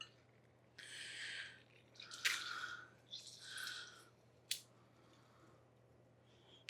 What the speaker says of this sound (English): As lemon juice goes everywhere.